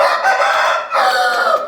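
A rooster crows loudly and close by, followed by a second crow, with hens clucking in the background, as black and maroon chickens are let out.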